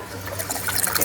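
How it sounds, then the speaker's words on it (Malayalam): Water is poured into a Kerala fish curry in the pot, a continuous splashing trickle that grows slightly louder, close by. "മീൻ കൂടാനുള്ള ആവശ്യമായിട്ടുള്ള വെള്ളം, മീൻ മുങ്ങി കിടക്കാൻ ആവശ്യമായിട്ടുള്ള വെള്ളം മതി."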